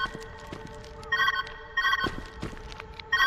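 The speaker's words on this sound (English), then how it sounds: "Where's that ringing coming from?" Telephone ringing in the puzzle game Viewfinder, with repeated bursts of an electronic bell tone, about three rings separated by short pauses, clear and fairly close over quiet background sounds.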